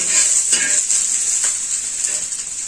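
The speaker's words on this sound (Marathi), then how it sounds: "आपण कांदा एकदम गोल्डन ब्राऊन होईपर्यंत छान असं भाजून घेणार आहोत." Onions fry toward golden brown in a hot pan, giving a loud, constant close hiss broken by a few soft stirring scrapes.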